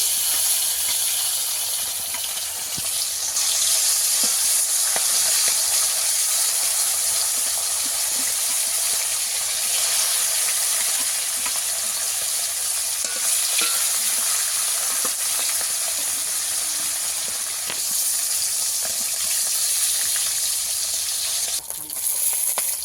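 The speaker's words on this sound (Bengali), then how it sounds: "আবারও একবার মাছগুলোকে ভেজে নেব।" Shol fish fries in oil for a second round, giving a continuous close sizzle with bursts of crackling and occasional scraping of a spatula, no speech.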